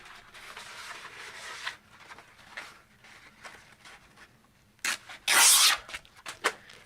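Sandpaper of 240 grit rubs back and forth in steady strokes, close and fairly soft, ending in a few louder, harsher scrubbing passes.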